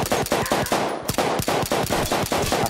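Gunfire from a pilot's weapon in Battlefield 1, loud close bursts of rapid automatic shots in a fast steady rhythm with one brief pause, no voices.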